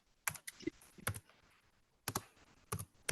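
A computer mouse clicks in sharp, close, separate bursts spaced irregularly over a few seconds, with quiet room sound between them and no voices.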